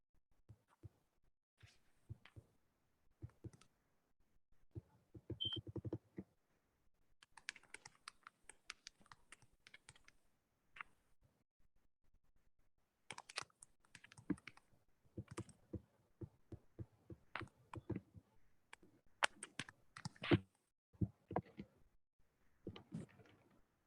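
Computer keyboard typing comes in bursts of quick, close, crisp keystrokes separated by silent pauses, with no talking.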